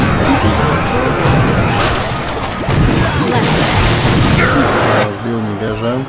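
Tower being smashed in the mobile game Clash Royale: continuous booming crashes and battle clatter fill the clip, loud and dense, with brief game chimes near the end.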